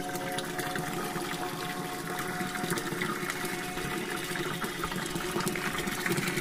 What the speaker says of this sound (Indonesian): Ini bak penampungannya masih lumayan seperti yang dulu. Bunyi airnya nih.